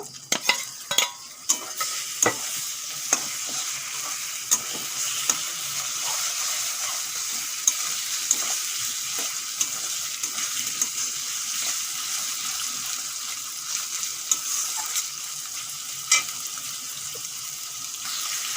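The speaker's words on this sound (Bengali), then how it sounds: "এখন হলুদ আর লবণ মাখা চিংড়ি মাছগুলো দিয়ে দেব" Turmeric- and salt-coated shrimp fry in a pan for a jackfruit dish, giving a steady close sizzle broken by repeated scraping stirs, with no voices.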